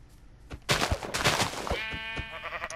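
Sheep bleating in the Minecraft video game, a loud wavering bleat rising out of quieter game sounds, preceded by a few soft taps and clicks.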